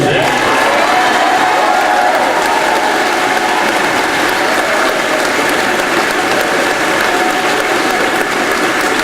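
Audience applause fills a ceremony hall, a loud, continuous roar of many hands clapping without letup for the full length, with no pauses or voices breaking through.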